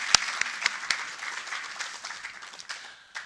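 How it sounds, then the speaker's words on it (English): Conference audience clapping for a speaker at a men's conference, a short, fairly faint round of applause with a few sharp close claps over a softer spread of hands, tapering off. "So can we give another round of applause to Dr. Matome?"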